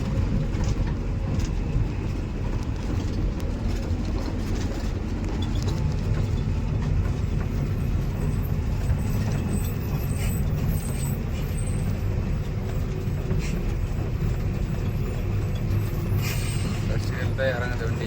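A loaded tipper truck carrying tar rolls downhill, its heavy low engine and drivetrain rumble steady and close throughout, with faint air-brake hiss and someone talking over it.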